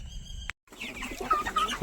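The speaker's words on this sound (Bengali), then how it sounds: "আমি আমার মুরগির খামারের ভিতরে চলে এসেছি" Chickens inside a poultry farm shed cluck in short bursts after a brief gap of silence, close and moderately loud, with no talk over them.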